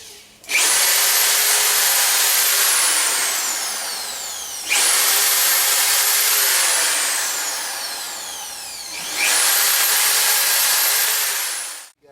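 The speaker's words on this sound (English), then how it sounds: "I'm just going to pre-drill these holes to make it easier." A power drill pre-drills holes in wood for building a garden planter, three long whining bursts that rise to full speed and hold steadily, with brief pauses between them, loud and close with no voices.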